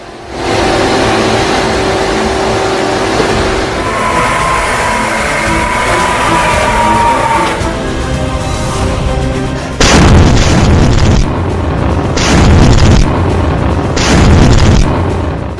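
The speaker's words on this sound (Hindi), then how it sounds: "ये क्रूज मिसाइल इजराइल पर दागी हिजबुल्लाह ने।" Hezbollah cruise missile launched toward Israel: a sustained roaring rush that builds and shifts, followed by a series of heavy, repeated booming blasts, loud and close, with no talk.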